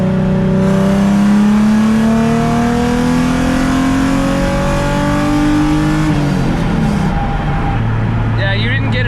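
The engine of an inexpensive Ford Mustang race car rises in pitch as it accelerates hard through the gears under load, loud and close, with a tire squeal and voices talking over it toward the end.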